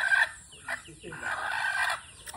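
An agitated chicken clucks in loud, harsh bursts close by, its squawking calls rising and falling over about two seconds.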